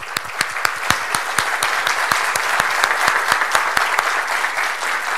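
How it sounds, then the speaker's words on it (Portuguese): An audience at a mathematics lecture bursts into applause, a dense, loud stretch of clapping with sharp individual claps standing out through the steady roar, no voices over it. "eu proponho um aplauso para o nosso"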